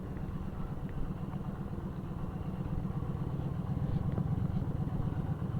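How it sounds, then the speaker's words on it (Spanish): Motorcycle engine idling steadily up close, a low continuous rumble with a faint clattering texture, running alone with no talk. "Vamos a apagar a la moto y finalizado."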